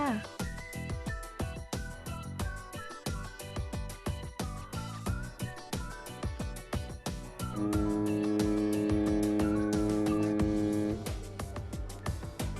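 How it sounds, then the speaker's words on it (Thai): After a stretch of rhythmic music, a boat moving on a river sets up a loud, steady tonal drone that holds for a few seconds, then fades back into the music. "เสียงเรือที่กำลังแล่นอยู่บนแม่น้ำนั่นเองค่ะ"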